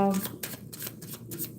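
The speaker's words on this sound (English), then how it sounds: "I'm gonna shuffle like RZ, like Sis does." Rapid riffling of a deck of cards, several quick bursts in succession, close and crisp, with a voice speaking softly underneath.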